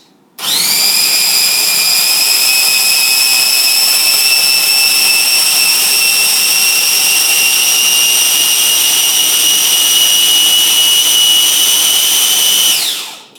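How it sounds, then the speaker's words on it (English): Food processor blending fresh tomato flesh into sauce: a loud, steady high-pitched motor whine that starts abruptly, holds constant for about twelve seconds, then winds down, close up with no talking. "So now you have all your tomato meat in your food processor, and you blend."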